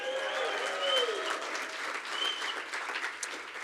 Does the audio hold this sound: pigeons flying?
no